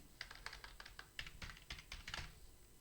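A computer keyboard clicks in quick, uneven bursts of keystrokes while a Linux DHCP server configuration is being written, close and fairly quiet with no voices.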